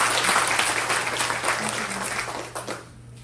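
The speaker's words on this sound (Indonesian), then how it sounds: "Mari kita berikan tepuk tangan lagi" A church congregation at a Mother's Day service claps together, a dense, sustained round of applause that tapers off in the last moments.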